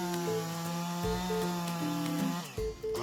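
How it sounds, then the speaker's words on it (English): A 5 HP chainsaw held by a logger cutting through a tree trunk, a loud continuous buzzing engine drone with shifting pitch as the blade bites, dipping briefly near the end, accompanied by a steady tonal background. "The logger is holding only a single saw in his hands, but with 5 HP of power, the blade spins aggressively and cuts through the tree trunk"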